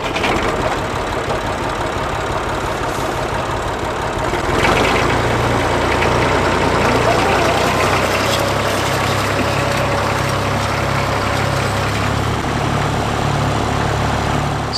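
Tractor engine running steadily through a match ploughing training run in a field, a loud continuous low rumble that grows heavier and steadier partway through, with no talk.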